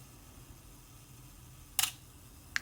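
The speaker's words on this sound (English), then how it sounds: "Then simply slide this lever across and trip the shutter, and it will give you around about 10-second delay." Self-timer and shutter of a vintage Yashica Minister III camera: a quiet, close mechanical clatter near the end, then a brief sharp shutter click, with faint room hiss around them.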